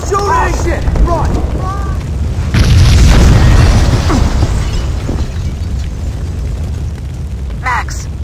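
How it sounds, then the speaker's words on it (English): A building blows up in the video game Max Payne 2, a loud booming blast that rumbles and roars for several seconds, then settles into a lingering low rush, with brief voices heard before it. "The building's blowing up."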